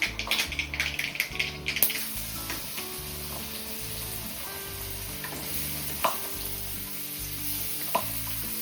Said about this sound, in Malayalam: കടുക് പൊട്ടാൻ തുടങ്ങിയിട്ടുണ്ട് അപ്പം നമുക്ക് അരിഞ്ഞു വെച്ച് നമ്മുടെ ബീട്രൂട്ട് സവാള പച്ചമുളക് ഇതെല്ലാം കൊണ്ട് നമുക്ക് ഇതിലേക്ക് ഇട്ട് കൊടുക്കാം